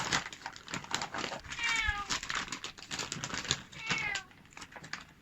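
A cat meows twice, rising and falling, close by amid rustling and light tapping noises in a kitchen while steak is prepared.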